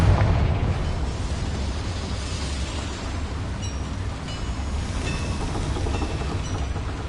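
A Confringo blasting spell explodes with a loud, sustained rumbling roar across a boiler room in the Hogwarts video game, with deep booming energy throughout and no talk.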